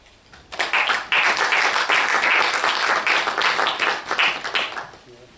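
Conference audience bursting into applause after a speech on African green energy, dense clapping building quickly, holding steady for several seconds, then tapering off near the end.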